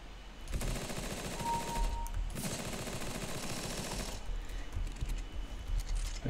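Rapid automatic bursts from a P90 submachine gun in Counter-Strike: Global Offensive, played on a gaming laptop, a dense rattling stream of shots running almost the whole time with only a short pause.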